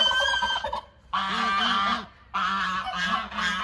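A goose in a backyard hobby coop honks loudly and close by. Two long, brassy honking bursts are separated by a short pause, with no talking.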